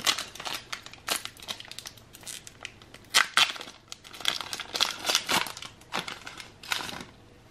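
Crinkling foil wrapper of a Pokemon TCG Battle Styles booster pack being torn open and crumpled, a close run of sharp crackles and rips with no talking.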